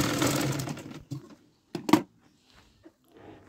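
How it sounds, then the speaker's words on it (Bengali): A sewing machine stitching a sleeve cut from fabric, heard as a steady whirring run at first, then short separate bursts of stitching between quiet pauses. "এভাবে করে ঘুরিয়ে ঘুরিয়ে পুরো কাপড়টা সেলাই করে দিতে হবে"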